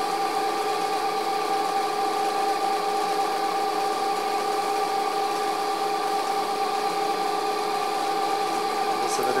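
A homemade generator driven by a 0.75 kW water pump motor runs at a steady speed, giving a constant electrical hum and whine with a faint mechanical rattle, unchanging throughout.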